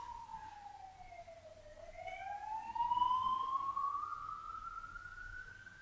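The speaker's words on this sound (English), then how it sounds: "There's a siren." A single siren wails in the distance, its tone sweeping down and then climbing slowly upward, alone over faint background hum.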